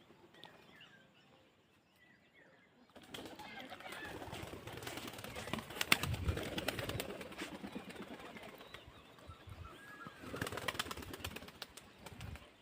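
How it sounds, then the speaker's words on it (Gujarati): A flock of pigeons feeding on scattered grain, with a busy mix of soft cooing, wing flutters and shuffling rising after a quiet start and staying fairly close, with voices talking over part of it. "ચોવીને કેટલા કબૂતર થઈ ગયા છે હવે તો"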